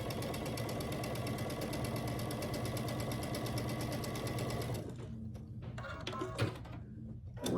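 A sewing machine runs a 1/4 inch seam on a quilt block, a steady fast rattling hum for about five seconds, then stops, leaving quieter handling clicks and fabric movement close by.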